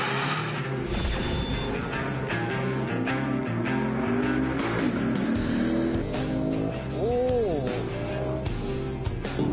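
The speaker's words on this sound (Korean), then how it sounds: "오, 배기음이 V8의 느낌을 완전히 제대로 내주는데요." A Lexus GS F sports sedan with a 473-horsepower V8 drones steadily under hard driving, its engine tone rising and falling through gear changes, with brief tire noise and someone talking over it.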